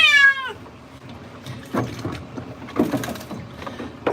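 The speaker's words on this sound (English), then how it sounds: "The I'm wet meow that you hear right now, that's pretty much what every cat's gonna do when they get wet" A wet cat complaining after its bath gives one close, drawn-out, wavering meow at the start, followed by quiet rustling and handling noises.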